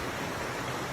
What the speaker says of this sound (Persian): رودخونه